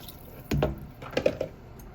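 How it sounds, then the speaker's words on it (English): Vegetable stock being poured into a soup pot for apple carrot soup: a brief wet splash followed by a few gurgling, dripping bursts, close and fairly quiet. "we're going to add our 6 cups of vegetable stock."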